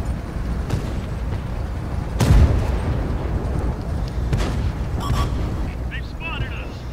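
A single heavy tank cannon shot booms out in a World of Tanks-style armored combat game replay, a loud low-frequency blast landing about two seconds in over steady battlefield rumble, with faint later game effects.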